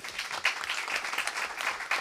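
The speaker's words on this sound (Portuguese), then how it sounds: "aqui ao nosso decano, deputado Carlos Mink, uma salva de palmas que ele merece" A brief stretch of steady applause from a crowd at a legislative environment committee session, dense and even hand clapping filling the room without pause.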